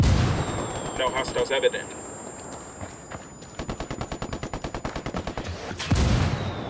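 Gunfire in Ghost Recon Wildlands: a few loud shots, then a fast, evenly spaced automatic burst and a heavy blast at the end, with a soldier speaking over the firing.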